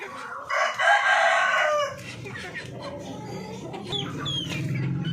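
A darag rooster crows loudly and close by in one long call, followed by softer clucking and farmyard chatter from other chickens in the background.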